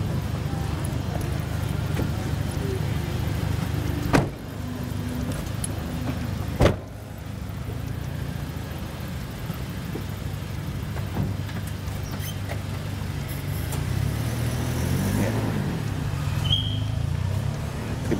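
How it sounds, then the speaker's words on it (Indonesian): A Jakarta Selatan prosecutor's office prisoner transport car drives off with an escort in front, a steady low vehicle rumble with faint crowd voices and two brief knocks. "Dibawa oleh mobil tahanan Kejaksaan Negeri Jakarta Selatan"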